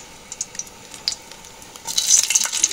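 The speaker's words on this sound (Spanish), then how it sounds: "Una vez que tenemos el aceite caliente, allí va tres dientes de ajo y empieza a saltar" Three garlic cloves drop into hot oil: a few scattered pops and stirring clicks, then a sudden louder burst of spitting, crackling sizzle.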